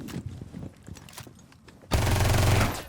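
Rainbow Six Siege firefight with Mira and Glaz operators: scattered muffled shots and footsteps, then a sudden loud sustained burst of gunfire filling the final second.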